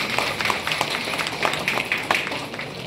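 An audience at a formal gathering claps in scattered, uneven taps that keep going for a few seconds at moderate volume.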